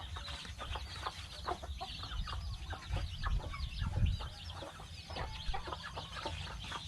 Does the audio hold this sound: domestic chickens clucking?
yes